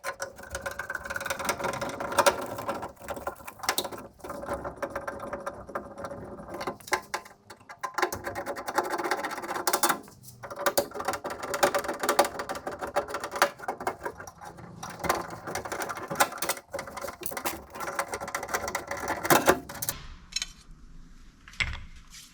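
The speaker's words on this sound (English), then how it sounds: "we're going to do the same as the front, get all these Torx screws out" Torx screws being driven out of a Grand Wagoneer door with a power driver, a close, whirring, rattling sound in repeated runs with short pauses between them.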